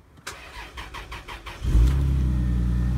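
A 1998 Lexus GS300 with a 2JZ-GE engine, started after sitting for five months: about five rhythmic starter cranks, then the engine catches with a surge and settles into a steady, fairly rough idle.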